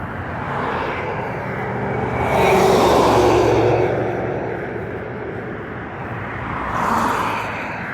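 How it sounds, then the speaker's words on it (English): Road traffic on a busy street in Florence, with vehicles swelling loudly as they pass close by, one big surge and then another, over a constant background roar. "This road sucks. It's way too loud. Too many cars."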